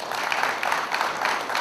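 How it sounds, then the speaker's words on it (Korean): A short burst of steady audience clapping at a Gwangju press conference welcoming an introduced guest, continuous and fairly close throughout. "박수 부탁드립니다."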